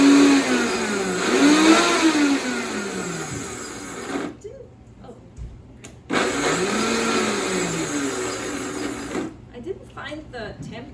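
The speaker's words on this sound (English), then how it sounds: "So I'm just gonna blend this up." A kitchen blender whirs through a raw vegan spicy creamy Asian sauce in two loud sustained runs, its pitch sliding as the load shifts, with a quiet pause between bursts.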